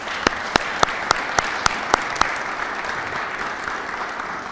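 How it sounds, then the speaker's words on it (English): Audience at a civic Mayor for the Day event applauding public servants, steady crowd clapping in a hall with a sharp, regular series of louder claps from one person near the microphone in the first half. "So let's have a warm round of applause for our public servants."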